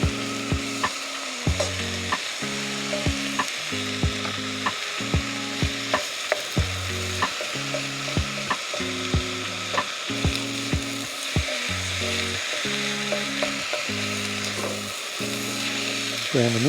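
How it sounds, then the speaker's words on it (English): Minced beef sizzles and fries in a pan for camp pasta bolognese outdoors, a steady close hiss with occasional scraping stirs, while rhythmic background music plays. "Brown the mince off."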